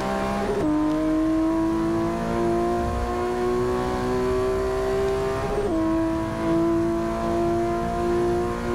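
Race car engine in Forza 6 holds a steady high drone, then shifts with sharp pitch breaks near 0.7 and 5.7 seconds before climbing again, loud and close throughout, McLaren P1 in a racing game.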